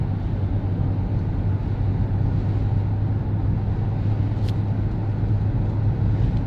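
A 2001 Nissan Pathfinder driving along, its engine and road noise forming a steady low drone inside the cabin, with no clear gear changes standing out and no talking.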